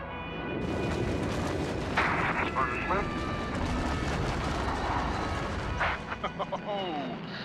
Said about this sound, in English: Lighting the afterburner provides the extra push needed to go supersonic